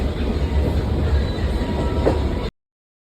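A MEMU passenger train pulls in to platform two at Dornakal Junction, its wheels rumbling and clacking steadily over the rails, loud and close throughout before cutting off abruptly.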